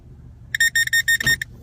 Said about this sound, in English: That's my reverse sensor.